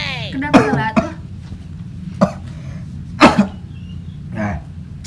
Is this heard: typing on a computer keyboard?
no